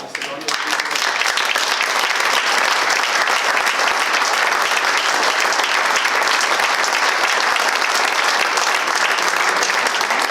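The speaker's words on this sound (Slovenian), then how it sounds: "dobiti en aplavz in zahvalo" Steady, loud applause from an audience at an awards ceremony, dense continuous clapping sustained throughout, with no break.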